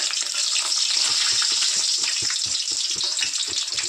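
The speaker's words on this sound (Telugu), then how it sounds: "ఇప్పుడైతే క్యాప్సికమ్ వేపుకుంటున్నాను ఫ్రెండ్స్" Capsicum frying in a pan gives a steady, loud sizzle throughout, with soft rhythmic scraping or stirring taps underneath.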